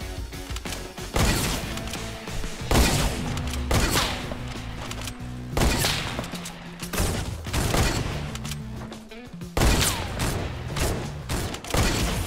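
Fortnite gunfire, including a thermal-scoped gun, crackles in several loud rapid volleys separated by short lulls, each burst sharp and dense with overlapping shots and metallic game effects.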